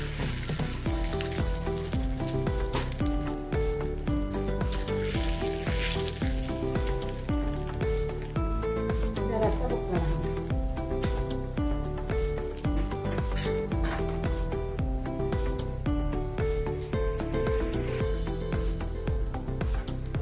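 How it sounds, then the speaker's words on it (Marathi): Cumin, asafoetida and red chillies sizzle in hot oil for a dal tadka, giving a continuous loud crackling fry with light stirring, while tonal background music plays steadily underneath. "तर जिरं घालून घ्या, थोडं हिंग घालून घ्या, मिरच्या लाल घालून घ्या"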